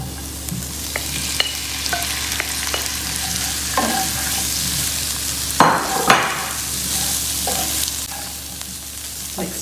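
Minced beef frying in a spiced pan for chilli con carne and being stirred, a steady close sizzle with brief scraping strokes and a louder burst of stirring near the middle, with no voices.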